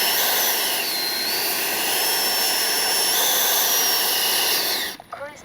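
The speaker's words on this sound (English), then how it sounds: "Cruise mode. Motor is so very chilled out." Electric ducted fan motor of a Freewing F-5 Tiger II RC jet cruising, a loud, steady, high-pitched whine holding for about five seconds before cutting off abruptly near the end.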